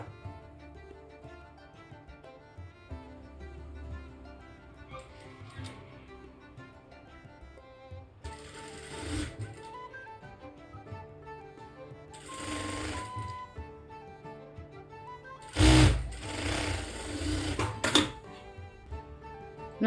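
A sewing machine stitches a kurti collar in several short, rattling bursts of rapid needle clatter, separated by quieter gaps. The last burst is the loudest and longest.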